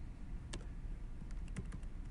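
Light typing on a computer keyboard while writing code in an editor: a few quiet, scattered key taps, with a cluster of quick clicks near the end, heard alone over a soft room hiss.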